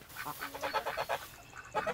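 Ducks quack and geese honk in a rapid, noisy series nearby while eating harvested wheat on a farm, a busy flock calling over each other.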